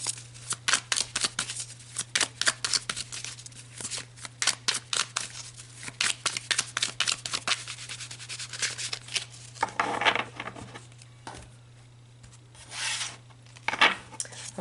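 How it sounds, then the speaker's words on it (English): Tarot cards being shuffled and handled for a Mars and Venus reading, giving rapid riffling flutters and slaps in bursts, with quieter rubbing pauses, close and alone over a steady low hum. "So let's pull some cards and look at the lessons attached here."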